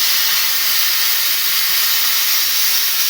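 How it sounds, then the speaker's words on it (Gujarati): Green and dry onions cooking in a pan with kasuri methi, giving a continuous close, loud hissing sizzle that holds steady throughout. "આપણે અત્યારે હલાવી રહ્યા છીએ ડુંગળી"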